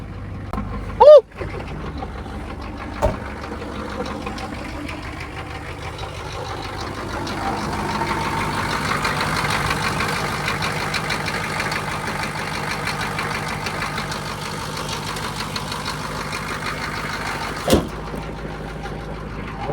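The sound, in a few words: engine running after ether start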